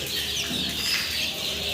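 Chickens on a fancy-breed poultry farm cluck and chirp steadily at close range, with occasional wing flaps mixed into the continuous flock noise.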